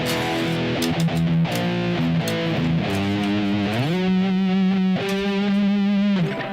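Heavily distorted electric guitar chords ring out loud and sustained through an effects unit while a song is being written, several held chords shifting pitch with no voices.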